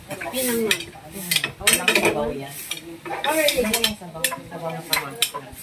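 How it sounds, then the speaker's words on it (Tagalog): Pangat, fish stewed with tomatoes, cooks in a pan on a Philippine kitchen stove, with a light sizzle, stirring scrapes and clinks of pan and utensils close by, while people talk over it throughout. "Ang pangat sa kamatis ang niluluto yan."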